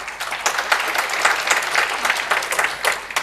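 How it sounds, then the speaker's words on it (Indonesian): A congregation at a church sermon applauds steadily, a dense, even clapping that stays at one level throughout. "Beri tepuk tangan, saudara."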